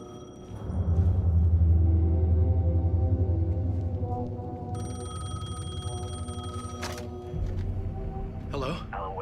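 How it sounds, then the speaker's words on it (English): A payphone rings in the video game Alan Wake 2, a bright repeated electronic ring entering partway through over low droning ambience and a voice, ending with a brief click. "The payphone was ringing."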